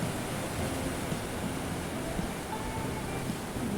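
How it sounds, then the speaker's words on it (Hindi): Sea water and waves wash continuously against Diu Fort, a dense broadband surf roar at steady loudness with no pauses or voices. "पानी की आवाज़ें इतना अच्छा इसकी साउंड आ रही थी ना"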